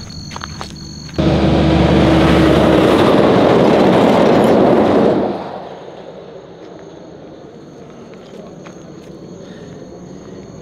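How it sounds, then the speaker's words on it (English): A large road train truck roars past loudly for several seconds in the Australian outback, then fades away, leaving faint ambient noise behind. "We got big road trains out here in Australia."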